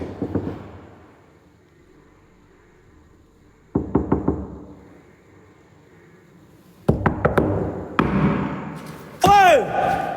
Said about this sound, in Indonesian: Suara ketuk pintu.